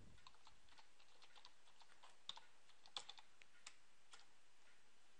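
Faint, quick keystrokes on a computer keyboard while entering a command-prompt delete command, a steady scatter of light clicks with a few sharper taps, no talking.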